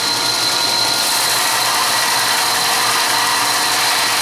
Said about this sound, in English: Sand it one more time, we should have it.